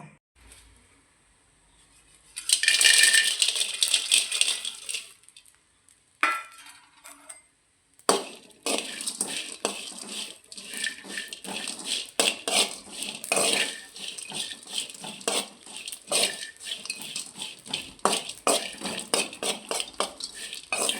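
Prawns sizzle and spit in a hot cheenachatti pan for a Kerala mango prawn curry, with a sharp crackling burst followed by steady frying and repeated clinks of a metal spatula stirring.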